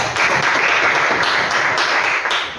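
Applause for Imo, a participant in an Indonesian church-teaching class discussion, rising as a dense, steady patter of many hands clapping at once, close and fairly loud, holding evenly for the whole stretch with no voices over it.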